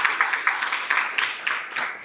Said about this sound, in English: So one quick round of applause for the graduates of our program.